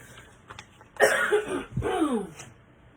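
A person coughs twice up close, two harsh, throaty bursts a moment apart in an otherwise quiet room.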